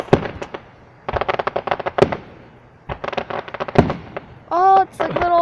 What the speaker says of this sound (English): A fireworks heartbeat.